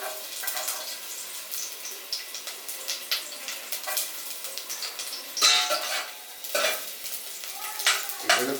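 Finely chopped garlic fries in hot olive oil for broccoli soup. A spoon scrapes and stirs through a lively sizzle in bursts, with clatters of the pan close up.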